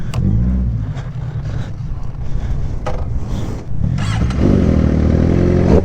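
A Suzuki GSX-R 600 sport motorcycle engine runs close by, its low steady drone rising into a strong, sustained higher-pitched rev near the end, with brief sharp noises over the engine.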